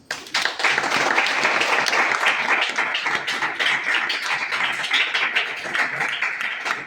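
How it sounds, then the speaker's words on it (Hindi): A crowd applauds steadily for several seconds, dense clapping filling the room at a consistent loud level before tapering slightly at the end. "अच्छा लगे तो ताली बजा सकते हैं।"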